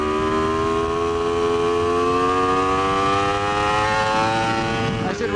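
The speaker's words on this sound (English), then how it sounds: "There's the red limiter." A loud, steady, high-pitched engine drone from an Aprilia RSV4 RF V4 superbike held at the rev limiter, with sustained harmonics and wind noise, close and continuous.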